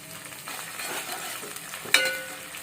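Chopped onion and green chilies sizzle in hot oil, crackling steadily while being stirred, with a sharp metallic clink of a utensil against the pan partway through.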